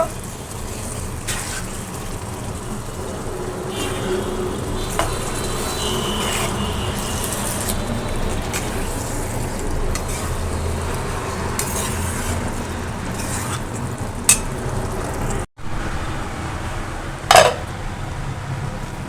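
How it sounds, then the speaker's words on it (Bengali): Meat being stir-fried (kosha) in a pot for biryani, a steady busy sizzle and scrape throughout with occasional clinks of metal utensils against the pan, close and continuous. "এখন আমি মাংসটা দিয়ে দিব মাংসটা এখন সুন্দর করে কষাই করে নেব"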